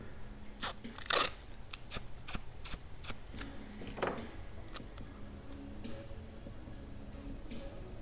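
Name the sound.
tape being pulled and torn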